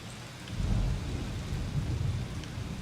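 Steady rainfall with rolling low thunder in the video game Seasons: A Letter to the Future, a continuous wash of drops over deep rumbles that swell and hold throughout, no voices.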